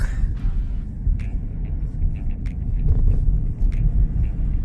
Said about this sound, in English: Right now I'm going to be driving by another set of condos that were built